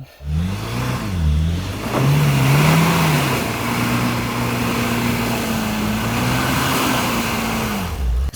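A 2.5-tonne Jeep Grand Cherokee SUV's engine revs up and accelerates, rising in pitch then holding a steady loud drone, close by with no talking.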